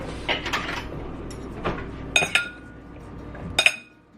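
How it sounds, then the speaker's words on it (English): Vegetables tossed with tamari and balsamic vinegar in a bowl give scattered clinks and clatters of a utensil against the dish, a few sharper knocks amid soft rustling, close and unaccompanied by talk. "We're just going to toss that really quick."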